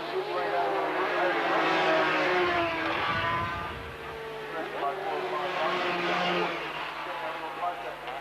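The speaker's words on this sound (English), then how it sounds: "Paviel in the lead at the moment on bike number 39 as they come through McPhillamy" 350cc Grand Prix racing motorcycles at the 1983 Australian Grand Prix at Bathurst roar through McPhillamy on the mountain, engines droning loudly and continuously under a commentator's voice.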